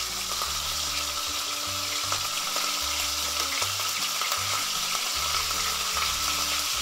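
Dense, continuous sizzling of venison roulades searing in fat in a hot pan, loud and close, with faint clatter underneath.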